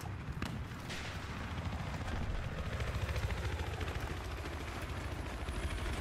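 Helicopter in a multiplayer shooter game, a steady chopping rotor drone holding at moderate distance with faint bursts of gunfire scattered underneath.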